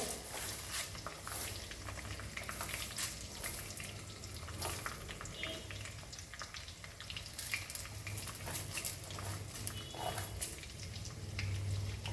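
Dal and curry leaves fry in a pan for Goan-style French bean foogath, a steady crackling sizzle with faint clinks of stirring, moderately quiet and continuous with no talking.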